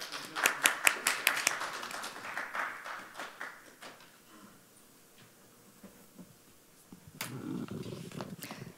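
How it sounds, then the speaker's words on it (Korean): A burst of scattered clapping from an audience at a robot ethics talk show at a robot business fair fades out after a few seconds, leaving a quiet room, then a few light claps return near the end. "최은선 수석님을 여러분 박수로 맞아주십시오."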